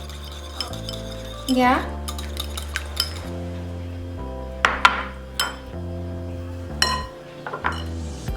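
Eggs lightly beaten in a bowl for buttermilk Nutella pancake batter, heard as a string of clinks and taps of utensil on dish over steady background music, with a brief spoken word.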